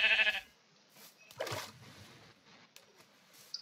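A sheep bleats in a video game, one loud nasal bleat at the start, then quieter scattered game noises and splashes, with another sharp sound at the end.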